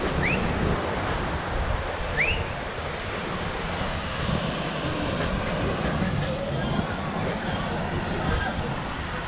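Ocean waves roll and break steadily on a beach at Sayulita, Mexico, a continuous surf roar with wind buffeting the microphone, no talk over it.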